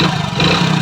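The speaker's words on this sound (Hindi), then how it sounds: "जो इंजन से भी कुछ इसका झरझर की साउंड है" Hero Splendor motorcycle engine with a rattling fault, running steadily up close with a dense, buzzing mechanical clatter and no speech.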